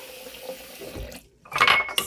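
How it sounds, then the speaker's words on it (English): Tap water runs into a bowl in a home kitchen while making tomato basil soup, a short splashing gush following a quieter stretch of kitchen handling. "I'm just going to add a little water."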